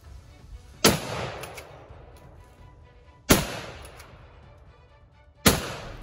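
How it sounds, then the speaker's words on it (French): Three sharp, loud rifle shots ring out at spaced intervals, each with a short echoing tail, as hunters fire at a large male animal during a driven hunt. "Lorsqu'il tire, la balle passe devant l'animal."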